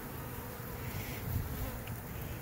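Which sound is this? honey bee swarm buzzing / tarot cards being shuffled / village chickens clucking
honey bee swarm buzzing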